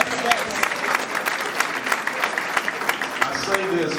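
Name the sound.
audience round of applause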